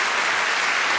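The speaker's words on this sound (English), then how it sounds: "the audience will go wild with applause" A theatre audience at a royal variety show breaks into loud, dense applause, with a continuous wash of clapping and no voices over it.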